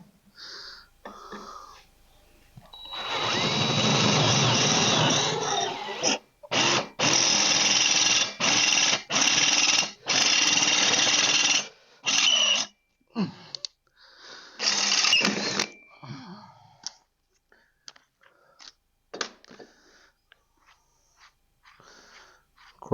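A handheld power drill whirs loudly in repeated bursts of varying length, starting and stopping, then sputtering out in short, fading taps.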